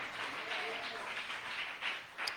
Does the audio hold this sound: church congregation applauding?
yes